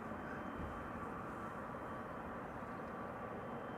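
Steady distant roar of a KLM Dreamliner approaching Amsterdam Schiphol Airport, a faint continuous jet rumble and broadband hiss that holds level throughout with no talk.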